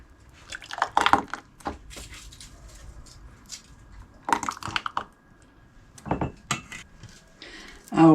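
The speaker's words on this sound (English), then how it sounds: "Fill up your jars." Glass jars of homemade Christmas jam being filled, giving scattered clinks, taps and scraping knocks of glass and utensils in short irregular bursts, fairly close, with no talking.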